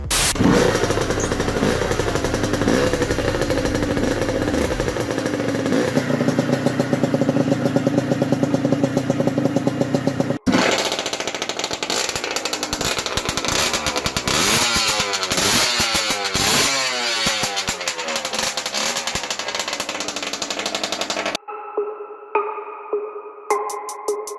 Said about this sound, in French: je vous ferai écouter le bruit du most juste après